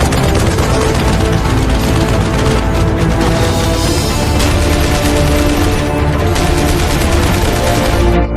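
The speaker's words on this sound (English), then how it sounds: "The enemy heard the gunfire sound" Dense, continuous roar of rapid gunfire, loud and sustained throughout with no pauses, like heavy automatic weapons firing nearby.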